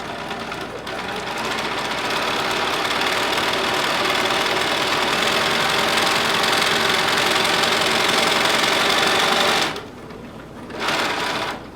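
A sewing machine stitches fabric close to the edge for a top with leather accents, running in a loud, steady whir for several seconds, pausing briefly, then starting again.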